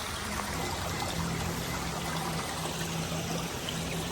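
Clear mountain river flowing near the Supit Urang post at Alas Tabut on a mountain hike, a steady, continuous rushing and gurgling of water that fills the whole clip with no voices.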